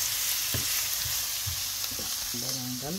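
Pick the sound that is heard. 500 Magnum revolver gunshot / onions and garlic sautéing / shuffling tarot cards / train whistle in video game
onions and garlic sautéing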